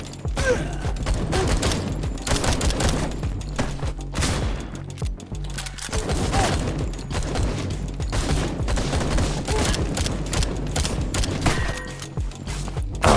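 Shotgun blasts in a fast shooter game, heavy repeated shots mixed with mechanical clacks and creaks of reloading, loud and nearly continuous over a dense background of game sound.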